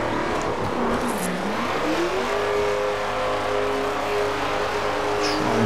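In The Crew Wild Run, a car engine strains uphill on rough off-road terrain, its steady loud drone rising in pitch as it revs, then holding a high, labored tone.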